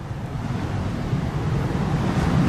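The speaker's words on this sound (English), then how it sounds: "the waves break out here" Ocean waves breaking on rocks at Peggy's Cove near Halibut Rock at high tide, heard as a low, continuous rumbling surge mixed with wind buffeting the microphone, swelling slightly toward the end.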